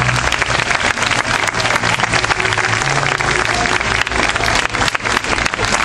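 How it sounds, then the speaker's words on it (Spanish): Dense, loud applause from an audience welcoming librarian Mario Fretes at the opening of a school-library reading marathon in Navarro, a steady wash of many hands clapping throughout. "a quien le vamos a dar un fuerte aplauso"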